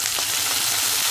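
Tomatoes drop into light-browned onions frying in a pan for dal tadka, giving a steady, close broadband sizzle with soft stirring textures underneath, no voices.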